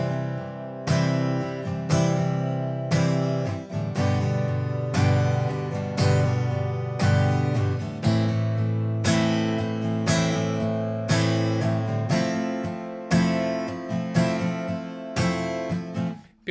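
Steady guitar strumming with heavy accents falling on the first and third beats, each stroke sharp and full; close and loud, repeating evenly for the whole passage without talking.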